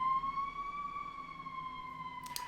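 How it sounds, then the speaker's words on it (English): A single emergency vehicle siren wails outside in a steady, slowly gliding tone at moderate distance, with faint traffic rumble beneath and a brief clatter near the end. "We love the sirens. We've been hearing sirens all day today."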